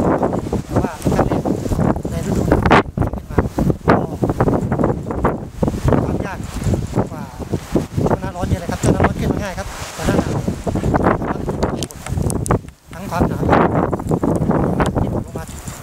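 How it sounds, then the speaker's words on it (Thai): Strong wind buffeting the microphone on a high mountain summit in Korea, a steady loud roar with gusts throughout, and people talking over it. "แล้วก็ลมครับค่อนข้างจะแรง"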